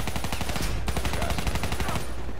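Rapid automatic gunfire in a Call of Duty Black Ops 3 co-op campaign, a fast, loud rattle of close shots that pauses briefly and then resumes with more bursts.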